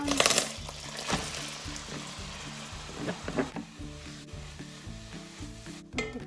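Yam frying in melted butter in a deep wide pan over medium heat, a close sizzle with bursts of crackle and stirring scrapes, steady under a low background hum, with no talking.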